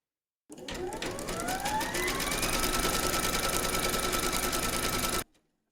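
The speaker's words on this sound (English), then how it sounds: "Pop your hoop into your machine and stitch round number 6 to secure it." An embroidery machine stitches a securing round on a hooped hexagon bag panel, a steady, fast mechanical chatter with rising motor whine that starts abruptly, runs evenly for about five seconds, then stops sharply.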